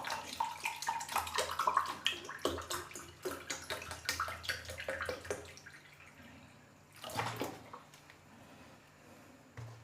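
Water pours from a container into a measuring jug in a home kitchen with a steady splashing trickle. It tapers off, then comes back in a short second pour near the end.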